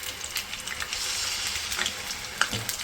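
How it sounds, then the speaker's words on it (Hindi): Ginger-garlic paste fries in hot oil in a kadai for butter chicken, making a soft, steady sizzle with light stirring scrapes and a small clink near the end. "ऑयल थोड़ा सा गर्म हो गया है, तो मैं इसके अंदर 2 टेबल स्पून भर के डालूँगी लहसुन अदरक का पेस्ट।"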